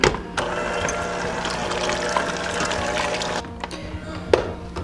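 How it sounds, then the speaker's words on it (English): An electric mixer churning shredded meat with fajita seasoning, a steady mechanical whir and grinding texture lasting throughout at moderate loudness, with a few clicks and knocks near the end. "Now I'm gonna add the fajita seasoning and just mix it up with the mixer."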